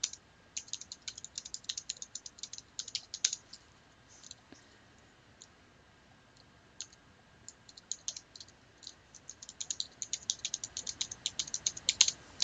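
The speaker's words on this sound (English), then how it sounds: "I'm going to go to the calculator. I'm going to type in these values." Rapid light clicking of fingers tapping values into a calculator keypad, quick bursts of crisp close taps separated by brief pauses, quiet overall.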